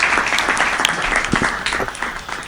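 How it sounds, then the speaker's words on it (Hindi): An audience at a Hindi comic poetry gathering applauds to welcome a poet, with dense, continuous clapping from a large crowd that holds steady and then eases slightly. "एक बार जोरदार ताली बजाकर बाबूलाल डींगिया जी का स्वागत कीजिए।"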